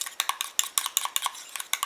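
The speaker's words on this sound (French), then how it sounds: "Je mélange comme après chaque ajout." A small utensil stirs homemade anti-aging eye cream in a little container after an ingredient goes in, making a quick run of bright clicks and taps against the sides, close and uneven, with no voice.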